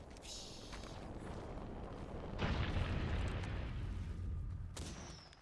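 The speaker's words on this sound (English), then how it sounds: "Throwing a thermite grenade." Thermite grenade ignites in Apex Legends with a sudden rumbling burst that swells into a sustained roaring crackle, loud and close amid other battle noise.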